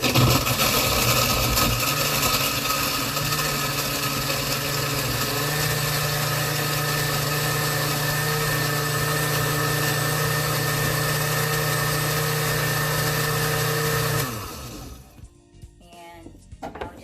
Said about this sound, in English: So now I'm going to put it on the ice crush designation here.